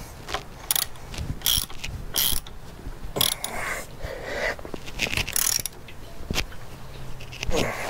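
Ratcheting and clicking of a tool tightening a windshield mount bolt on a Triumph Bonneville during a Madstad windshield install, with irregular mechanical clicks and creaks close by.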